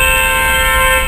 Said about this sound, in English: they like to beep their horns here like they do everywhere else in Panama